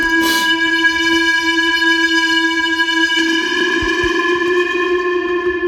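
Heavily distorted, gritty synth preset called Crystal Horizon, drenched in reverb for a metal track, holding a sustained bright tone with a noisy burst at the start and a shift partway through, loud and alone.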